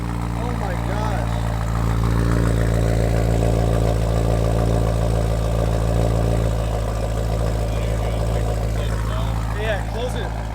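2013 BMW E92 M3 with a valved exhaust open and no muffler, its engine droning loud and steady close by, with low throbbing tones throughout.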